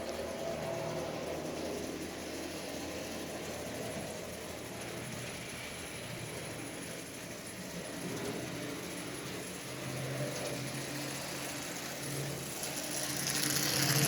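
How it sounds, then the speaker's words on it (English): A 1930 Marx manual reverse toy train motor runs slowly on DC power, giving a faint, steady mechanical whir and gear chatter that continues without a break. "this motor is just running absolutely splendidly"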